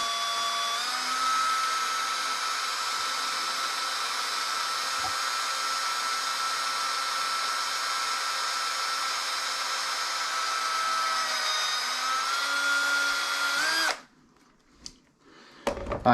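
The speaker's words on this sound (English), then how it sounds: "Alright, so the size hole that I'm drilling is a 1/16 inch hole." A small power drill boring a 1/16 inch hole whines steadily and close for about fourteen seconds, then cuts out, leaving a few faint clicks and handling noises.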